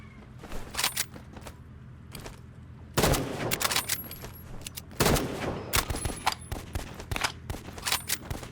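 Gunfire in the shooter video game Rivals comes in repeated sharp volleys, with dense rapid bursts at intervals over quieter stretches of game sound.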